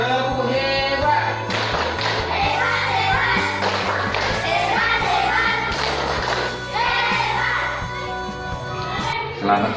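A classroom of children claps a rhythmic patterned cheer, a run of quick, bright claps in a set beat, fairly close, with teacher and children's voices mixed in around it.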